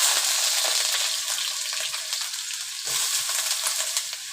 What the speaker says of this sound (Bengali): বন্ধুরা, কড়াই গরম হয়ে গেছে, সর্ষের তেল দিয়ে দেবো। প্রথমেই আলুটা ভেজে নেব।